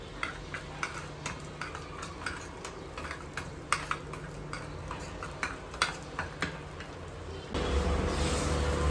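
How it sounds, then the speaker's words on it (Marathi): Eggs get whisked by hand with red chili powder, turmeric and salt in a home kitchen, a steady run of light, quick tapping beats against the bowl, quiet and close, then a louder sizzling wash at the end. "थोडंसं लाल तिखट टाकले थोडीशी हळद मीठ आणि आता हे छानपैकी मिक्स करून घेते"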